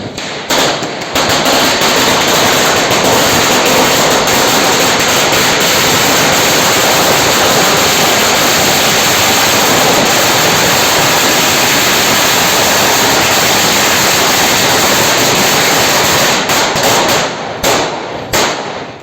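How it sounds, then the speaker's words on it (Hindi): Diwali firecrackers set off outdoors, a dense, loud, continuous crackle of rapid bangs and pops that fills nearly the whole stretch, fading out at the end. "तो चलिए अब चलाते हैं इन पटाखों को"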